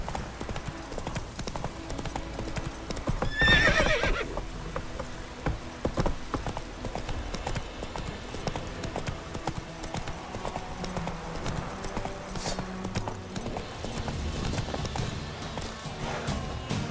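Hooves clip-clop in a steady galloping rhythm as the horse Roach runs in The Witcher 3 video game. A brief neigh comes early on. Footfalls stay moderately loud and continuous over a low game ambience.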